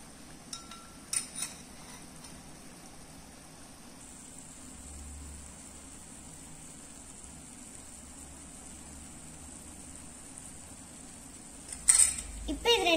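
Urad dal vadas, miniature ones, fry in hot oil and are turned over, giving a faint, steady sizzling hiss with a few light utensil clinks near the start and end.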